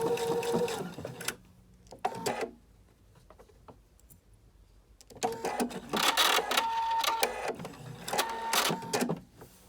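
A sewing machine runs in short bursts as it stitches across a placemat being made into an organizer, quick rattling runs separated by quiet pauses, close and fairly loud.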